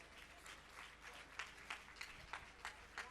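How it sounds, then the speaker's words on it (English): Applause from a conference audience at an awards event in Abuja, faint and steady at first, then rising into a run of sharper clap bursts over the last half. "Can we continue with the applause until she's seated?"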